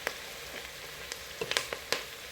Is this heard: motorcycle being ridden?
no